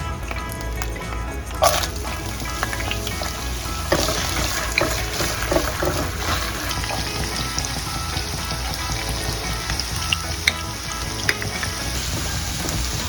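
Steady close sizzling as ingredients sauté in oil left from frying bell peppers and liver for pork menudo, a continuous crackle with occasional stirring clinks throughout.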